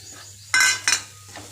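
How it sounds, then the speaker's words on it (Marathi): Sorghum flour roasting in ghee in a pan is stirred with a utensil in two short scraping bursts, close and fairly loud, with quieter scrapes trailing off against a low steady hum. "आता पुन्हा आपण थोडं थोडं तूप टाकायचं आणि दुसरं पीठ भाजून घ्यायचं."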